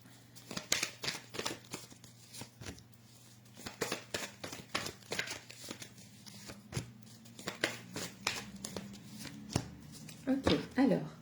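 Playing cards shuffled during a live group session, a series of sharp riffling bursts at an irregular pace, close and fairly loud, with a voice talking over and between them.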